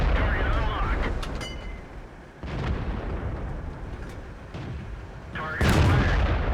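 Tank cannon fire and explosions from the video game World of Tanks, with heavy booming blasts rising and falling against a rumbling battle background, fairly loud, and game voices speaking over it.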